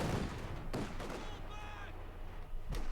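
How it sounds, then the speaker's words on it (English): Auto cannons firing at sandbags in Company of Heroes 2, heard as a few sharp reports spaced across the moment against a steady battle din, with a brief tonal whine in the middle. "that's what happens when they fire auto cannons at them"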